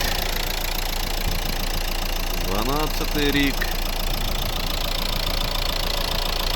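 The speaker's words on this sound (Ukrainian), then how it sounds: "камера передає наскільки рівно, еластично, тихо працює цей дизельний двигун." A 2012 Renault Scenic III with a 1.5 dCi diesel and automatic gearbox idles at a steady, quiet, even hum, with someone briefly talking over it.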